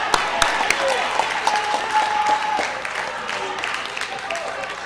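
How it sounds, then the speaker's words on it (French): A church congregation applauds during a Sunday service, steady clapping filling the room at a moderate level, with voices speaking over it throughout. "On applaudit le Seigneur."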